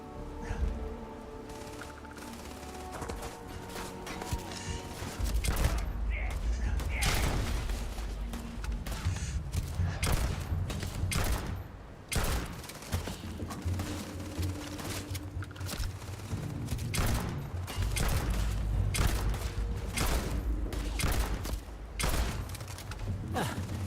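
Gunfire in the space game Starfield comes as dense, rapid bursts of shots over a layer of game music and ambience, loud and sustained with brief pauses.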